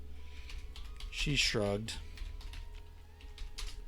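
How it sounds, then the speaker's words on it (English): Rapid clicking keystrokes on a computer keyboard run steadily throughout, close and clear, while a voice briefly speaks over them near the middle. "Maybe I'm typing too fast."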